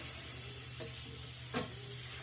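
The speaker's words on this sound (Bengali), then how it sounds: "এখন আমি কিছুক্ষণ মশলাটার সাথে ফুলকপি ও আলুটাকে কষিয়ে নেব" Cauliflower and potatoes are fried with masala, giving a quiet, even sizzle with two or three soft scrapes of a spoon moving through the pan, one a little louder, and no voices.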